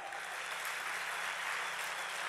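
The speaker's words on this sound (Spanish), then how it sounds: "usted tiene que darle un fuerte aplauso al Señor" Congregation at a church service applauds with a steady, even wash of clapping, faint and distant throughout the short stretch, with no speech.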